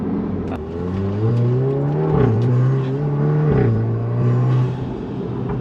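A Mk7 Golf R with a stage 2 tune, turbo and aftermarket exhaust accelerates with a deep, throaty drone, pitch climbing in steps between gear shifts and ending in a steady, loud rumble.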